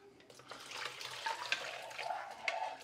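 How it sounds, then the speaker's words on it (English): A warm mix of water, sugar, salt and grease is dumped into a mixing bowl of flour for homemade rolls, a short, soft splashing pour close by with light sloshing and no talking. "I've got water, sugar, salt, grease mixed together. And I'm going to dump it right in that bowl."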